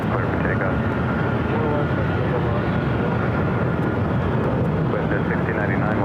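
A Delta airliner takes off from runway 24 left at LAX, its broad steady jet roar filling the whole stretch at a constant, loud level with no letup.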